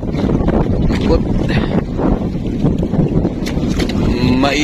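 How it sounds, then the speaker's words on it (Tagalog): Strong, steady wind gusts over a small boat out at sea during night squid fishing, a broad continuous roar with buffeting against the microphone throughout. "maihip yung hangin kasi tuloy-tuloy"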